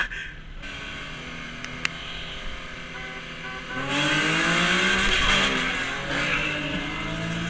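Boosted Subaru FRS and Nissan 350Zs racing side by side in first gear, with several engines rising in hard, loud pulls that swell louder midway, with no voices.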